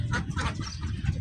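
Chickens at a duck and poultry farm clucking in short, close bursts with low rustling and movement around them.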